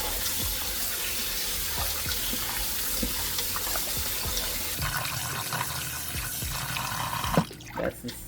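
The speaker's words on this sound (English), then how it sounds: "Now we're going to rinse it off, throw it off, pour off this water." Tap water runs steadily into a sink while oxtail is rinsed, a continuous close splashing with scattered drips and clunks, ending in a few louder knocks as the flow stops.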